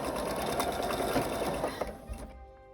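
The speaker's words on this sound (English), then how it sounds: "I started to sew it the wrong way" A sewing machine stitches the apron or skirt onto a handmade felt doll, running in a steady, close whir for about two seconds before it slows and stops, with no talk over it.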